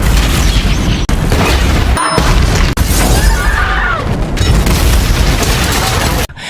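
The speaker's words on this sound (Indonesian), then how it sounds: "mereka pun akhirnya tewas juga akibat bom waktu yang telah mereka pasang di kakinya" A time bomb explodes in a film scene inside a cinema: a dense, continuous roar of blast and crashing debris fills the whole stretch, loud and near, with brief dropouts between bursts.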